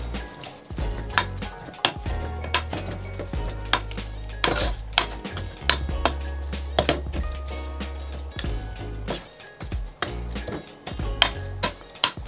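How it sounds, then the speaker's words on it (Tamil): A utensil mashes cooked chana dal in a pot for sweet poli, making repeated irregular thuds and metallic clinks against the vessel, close and fairly loud, with no talking. "நான் நல்லா மசிக்காமல் ஒன்று ரெண்டு கடிபடுற மாதிரியும் தான் நான் மசிக்கிறேன்"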